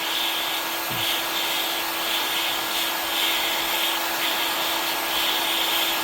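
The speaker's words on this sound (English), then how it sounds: "Just don't use a torch. Use a heat gun. Keep moving it around." Heat gun blowing steadily on the aluminum bearing housing of a Stihl FC75/FS66 trimmer, a constant close airy whir with a faint high whine and no break across the stretch.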